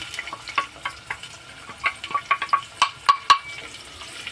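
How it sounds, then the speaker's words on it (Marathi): Onion frying in a pan with cloves and cinnamon for a quick chicken dish, a soft sizzle under repeated scraping and stirring strokes of a spoon, close and moderately quiet. "कांदाच आपल्या कांद्याला लाल कलर येईपर्यंत भाजणार आहे।"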